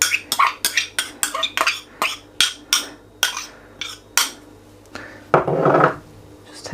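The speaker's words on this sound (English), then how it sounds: "just going to add all of the spices straight in to our keema mix here" Spices, chilies, coriander and onion tipped into a lamb seekh kebab keema mix, heard as a rapid series of close knocks and taps from a utensil against a bowl, then a brief rustling scrape near the end, with no talking.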